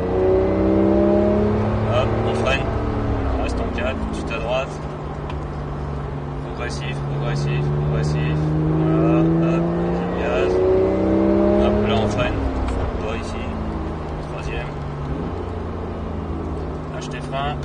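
A Porsche 911 991.1 GT3 engine on a race circuit rises and falls in pitch through repeated accelerations, loud and close, with an instructor's voice speaking over it throughout.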